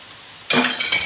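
Long beans and chicken are stirred in a hot pan, a low background hum suddenly giving way to a loud, close sizzle and scrape as the spatula moves through.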